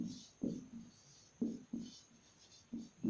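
Marker or pen strokes on a board while a maths equation is written out, a handful of short, scratchy scrapes in quick groups, close and fairly quiet, with no talk over them.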